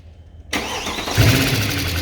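A 2011 Mercedes E63 with 130k km starts from silence, cranking briefly before catching into a loud, steady idle, then its revs climb slightly and hold.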